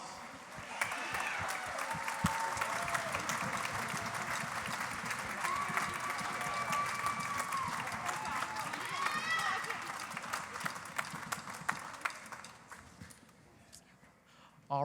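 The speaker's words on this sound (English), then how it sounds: "Please help me welcome them back with a big round of applause." Audience applause rises for the adult finalists returning to the stage at the Hoosier Star 2021 talent competition, a steady wash of clapping with scattered crowd noise and faint tones, carrying on for about twelve seconds before easing off.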